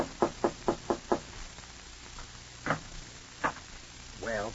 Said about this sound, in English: as you go upstairs and knock on the door